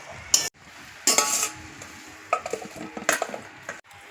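Cabbage, potato and pea curry being stirred in a pan, with a few scraping spatula strokes against the metal over a low sizzle, close and fairly quiet.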